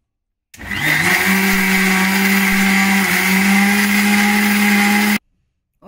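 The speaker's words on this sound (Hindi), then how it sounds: "अभी हमें और थोड़ा सा इसको पीसना है थोड़ा दरदरा है" An electric blender grinds a sweet and sour chutney that is still coarse. The loud, steady motor whine starts abruptly, runs for about four and a half seconds, then cuts off, with no talk.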